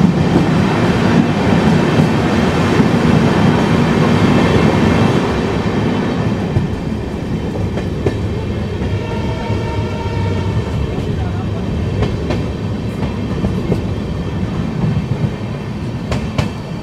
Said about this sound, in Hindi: यहाँ डीजल लोकोमोटिव के साथ ही चलती हैं ट्रेन्स।